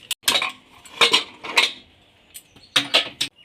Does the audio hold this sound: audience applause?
no